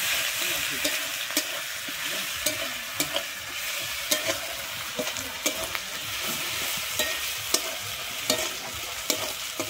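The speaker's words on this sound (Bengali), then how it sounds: "আমি রসুনটা কিন্তু ভেজে নেব।" Garlic paste fries with browned onion in a pan, sizzling steadily while a utensil stirs and scrapes, adding sharp, irregular clicks throughout.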